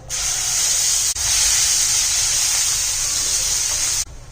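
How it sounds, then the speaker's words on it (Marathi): Tomato puree hits hot oil in a pan for rajma, setting off a loud, steady, hissing sizzle that bursts in abruptly, dips for an instant, then holds strong before cutting off. "सर्व छान भाजल्याच्या नंतर किंवा फ्राय झाल्याच्या नंतर हे प्युरी टाकायची आहे आपल्याला"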